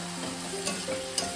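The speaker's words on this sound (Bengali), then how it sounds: "আমি আবারও ভালো করে বিনস আলুর সঙ্গে পোস্তটা কষিয়ে নেব" Beans and potatoes stirred in a pan with poppy seed paste, a soft steady sizzle with faint scraping stirs and a couple of brief clinks, close and quiet, no talk.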